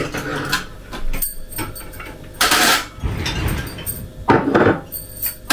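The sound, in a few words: glasses being put away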